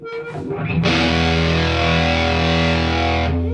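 A heavily fuzzed electric guitar chord through a Big Muff fuzz pedal and a Quilter 101 Mini Head amp rings out loud and thick, sustaining with saturated distortion for a few seconds before cutting off.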